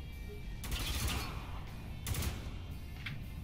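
Gunfire crackles in Spec Ops The Line: two dense bursts of shots a little over a second apart, then a shorter third, all fairly distant and subdued.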